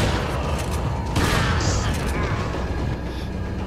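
A grenade explodes in the Resident Evil 4 HD game, a loud, broad burst around the middle that lingers over a dense wash of game noise and rumble.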